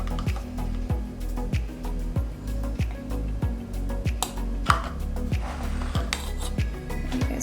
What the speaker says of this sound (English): So I like to use a spoon, just to put my mixture inside my little popsicle trays.